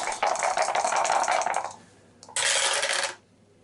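Dice rattling in a dice cup for an Arkham Horror board game, two bursts of close, bright clattering shakes, the first longer, separated by a short pause, with no talk.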